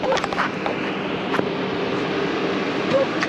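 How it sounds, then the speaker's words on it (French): A camper van's ventilation fan runs at full speed, giving a steady, close, broadband whoosh that holds evenly throughout with no break. "Voilà, il est à fond le ventilo."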